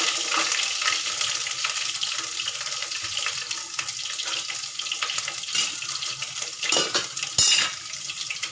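A spoon stirs ginger-chilli paste into crushed ingredients in a metal pan while making a grill samosa filling, with continuous close scraping and clinking and a few louder knocks of utensil against pan near the end.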